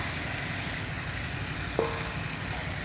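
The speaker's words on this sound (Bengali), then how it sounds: "অল্প ভেজে নেব ভালো মতন। ফুলকপিটা সুন্দর করে ভেজে নিলে খেতে সুন্দর হয়।" Cauliflower fries in oil in a pan, giving a steady, close hiss and sizzle throughout, with a single brief clink partway through.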